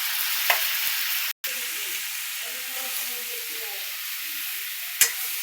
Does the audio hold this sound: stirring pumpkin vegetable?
yes